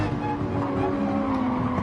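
A race car braking hard in Gran Turismo 7, tires squealing with a steady high whine over the engine and road rumble, loud and continuous without pause.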